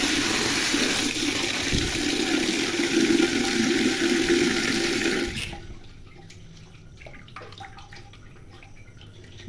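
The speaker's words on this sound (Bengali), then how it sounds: "এখন মাছের মধ্যে আমি পানি দিব।" Water pours steadily into a pot holding live magur catfish, a loud broadband rush that runs for about five seconds, then cuts off, leaving faint splashes and small drips.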